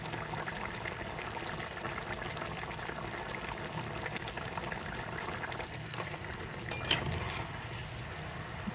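Chicken kosha simmering in a covered pan over a gas flame with the heat turned up, a faint steady bubbling and sizzling hiss that continues evenly, with a small clink near the end.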